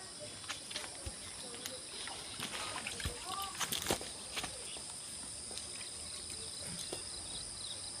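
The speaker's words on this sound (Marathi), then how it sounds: "आता या वरण्याला मी पाणी घालणार आहे" Water poured over hyacinth bean plants in a home backyard garden gives soft, intermittent splashes, densest midway, over a constant background of chirping insects.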